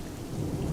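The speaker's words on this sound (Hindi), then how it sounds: "लेकिन धीरे धीरे बारिश तेज हो जाती है, साथ ही आंधी भी शुरू हो जाती है" Heavy rain pours steadily during a thunderstorm with strong wind, a dense low rumbling wash heard briefly and alone, with no voices.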